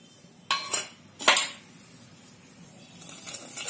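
A metal spoon stirs chili powder and turmeric into oil in a pan, giving two sharp clanks early on. Quieter scraping follows, then a few light clinks at the end.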